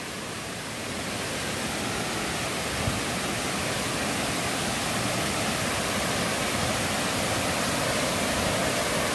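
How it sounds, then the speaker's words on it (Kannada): A waterfall pours down in a dense, unbroken roar of rushing water, loud and close and steady throughout with no voices. "We come to the best part, waterfalls."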